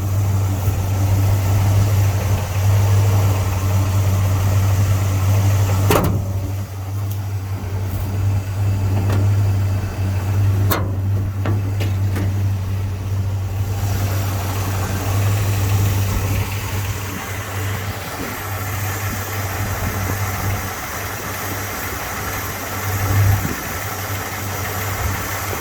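The 455 HO V8 in a 1971 Pontiac GTO Judge idles steadily with its hood open, heard up close as a low, even rumble with a constant deep hum and slight rhythmic pulsing for the full length.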